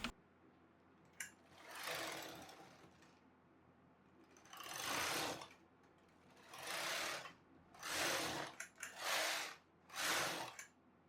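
A knitting machine working a fair isle dog sweater, its carriage swept back and forth in several rasping, whooshing passes separated by short pauses, close and fairly quiet with no talking.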